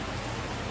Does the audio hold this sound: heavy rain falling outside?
yes